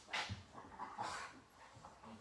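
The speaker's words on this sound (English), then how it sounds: "get the dog. They're friggin' tearing each other up" Two household dogs fighting and tearing at each other, with close, uneven bursts of snarling, panting and high whimpers that swell and fade over a couple of seconds.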